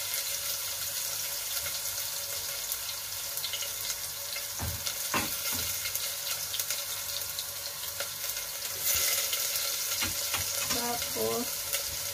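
Garlic sautéing in a pan for ginisang mongo, a steady close sizzle with occasional stirring scrapes and clinks throughout.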